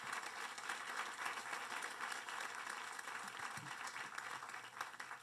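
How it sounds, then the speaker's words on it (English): An audience at a groundbreaking ceremony applauds, a steady wash of many hands clapping heard from a distance, continuous and even throughout. "Please join me in giving him a round of applause."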